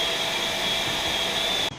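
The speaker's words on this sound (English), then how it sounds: "Why don't we zap that with the shop vac before we open that up?" Shop vac running steadily to suck dirt off a fuel pump on a BMW N54 135i during a fuel pump install, a loud continuous whine close by that cuts off abruptly at the end.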